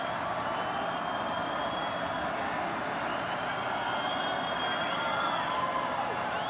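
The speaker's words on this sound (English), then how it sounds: "Here the crowd getting into it at Morrison Stadium. They know the stakes. Plenty of applause for the Junior Jays" A soccer stadium crowd at a state boys' championship match roars and applauds in a continuous, distant wash of cheering that holds steady throughout.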